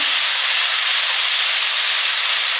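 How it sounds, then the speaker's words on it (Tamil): Asafoetida sizzling lightly in hot oil in a pan while a Tamil home-style kuzhambu is cooked, a loud, steady hiss holding evenly throughout with no talking over it. "பெருங்காயம் வந்து லேசாக வதக்கினா போதும்"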